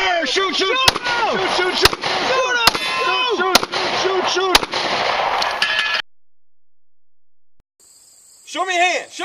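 Sharp gunshots ring out at a steady pace during a law enforcement firearms training drill, cracking loudly over shouted commands and a busy outdoor background before a brief quiet gap and more voices.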